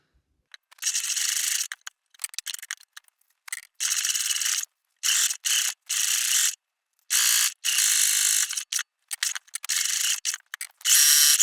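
A sewing machine bastes the raw edges of a tote bag closed, running in short bursts of fast mechanical whirring with brief stops between them.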